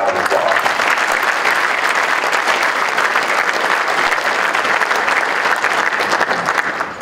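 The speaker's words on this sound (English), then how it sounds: "Another round of applause." Audience at an NAB broadcasting awards ceremony breaks into dense, steady applause, loud and continuous for several seconds before trailing off slightly at the end.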